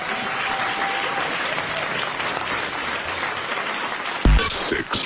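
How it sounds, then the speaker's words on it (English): Studio audience applause at the close of a BBC Radio 6 Music show, a steady dense wash of clapping throughout with a sharper louder burst near the end, heard alone without talk. "Give yourselves a round of applause."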